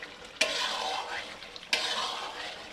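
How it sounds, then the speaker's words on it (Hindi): Chicken Afghani karahi masala gravy frying in oil while being stirred, steady close sizzle with two sharp metallic spoon scrapes against the pan. "इसे मुसलसल हम 2 से 3 मिनट बाद बारी बारी हिला के तो ये मसाला हम भून लेंगे तकरीबन"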